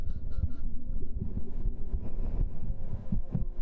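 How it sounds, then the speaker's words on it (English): A close, muffled heartbeat thumps in a steady rhythm with a low throbbing hum, recorded on a binaural microphone in an ASMR setting. "This is why I hate heartbeats sometimes."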